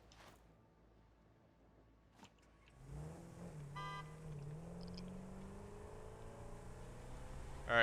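A video game car starts up after a quiet pause. Its engine settles into a steady hum that slowly climbs in pitch as it drives, with a brief chime-like blip near the start.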